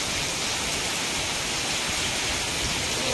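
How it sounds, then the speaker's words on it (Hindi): Heavy rain pours steadily onto a balcony gallery, a dense, even hiss with no breaks, close and fairly loud, with no voices. "यहाँ जो है बहुत ही ज़्यादा बारिश आ रहा है"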